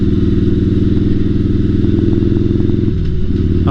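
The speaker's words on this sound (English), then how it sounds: "of course we are on a Harley touring bike" Harley-Davidson touring motorcycle with a 124-inch engine, riding at Sturgis, its steady loud rumble continuous throughout with a slight shift in engine note near the end and light clatter on top.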